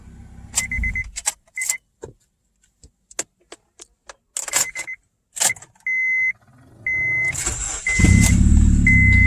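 A cheap, worn Honda Civic is switched off and restarted. Keys jangle and click in the ignition, then a high warning chime beeps repeatedly before the engine cranks and catches into a loud, rough idle close by.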